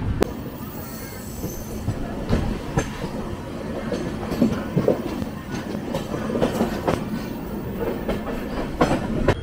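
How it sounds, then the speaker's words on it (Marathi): A Konkan Railway train rumbles steadily with rhythmic clickety-clack of wheels over rail joints and occasional squeals, rolling in toward a stop at Panvel Junction. "आता आपली ट्रेन पनवेलला पोहोचत आहे."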